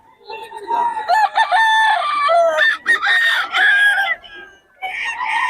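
Several roosters crow loudly and close by, overlapping long drawn-out calls with brief gaps between them.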